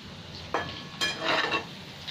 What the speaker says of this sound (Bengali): এদিকে কড়াই তেল বসিয়ে দিয়েছিলাম, দিয়ে আলু পটলটা ভাজতে শুরু করেছিলাম।